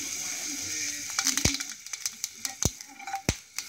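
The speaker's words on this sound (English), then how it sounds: "just a little bit of oil, just to fry this garlic" Garlic and ginger paste fries in a little oil, a steady hiss and sizzle overlaid with sharp clicks and taps from a spoon against the pan, close and moderately loud.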